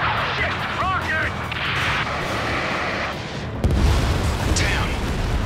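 Rocket blast in the video game Ace Combat 7, a heavy booming burst over continuous jet and combat rumble, with radio chatter and shouting heard over it.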